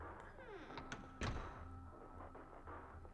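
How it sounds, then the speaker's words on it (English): A door slams shut in the video game 999, one loud low thud standing out mid-clip over quiet background game music and ambience. "he heard the door slam shut behind him"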